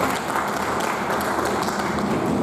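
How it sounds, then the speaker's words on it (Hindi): An audience at a university workshop applauds, a dense, even wash of hand clapping sustained for the full stretch, moderately loud and unbroken by talk. "के लिए ताली बजा दीजिए आप लोग।"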